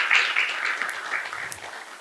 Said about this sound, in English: let's have a huge round of applause for Startup Story first